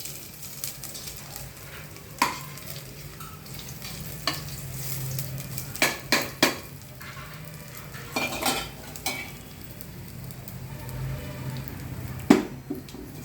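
Two dried red chilies sizzling in hot oil for pongal, a steady low frying hiss broken by repeated clinks and scrapes of a spoon against the pan, close and fairly quiet, with no talking.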